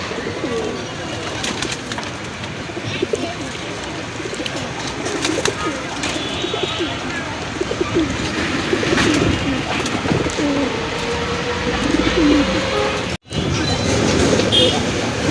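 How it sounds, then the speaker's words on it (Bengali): A male Rajgolla giribaz pigeon coos repeatedly at close range, its low throaty calls rolling on steadily over a constant background hum. "এটা রাজগোল্লার একটা নর কবুতর মাশাল্লাহ প্রচুর ডাকে"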